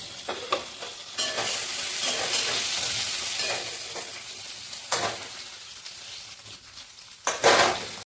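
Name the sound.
onion frying in a pan with salt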